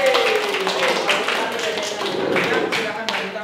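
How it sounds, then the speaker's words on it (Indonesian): An audience breaks into steady applause at an Indonesian gathering, a dense patter of clapping running throughout under a speaking voice. "Tepuk tangan dulu"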